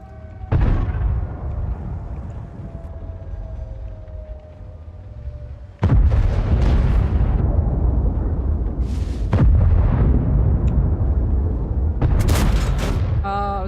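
Tank cannon fire and explosions in a tank combat video game, several heavy booming blasts with rumbling decay over continuous loud battle noise and engine drone.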